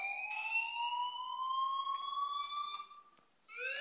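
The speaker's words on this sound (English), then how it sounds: "please turn off that alarm since that's your job" An electronic alarm in the video game Life Is Strange 2 wails in steady rising tones, loud and continuous with no talk over it, then briefly dips before sounding again.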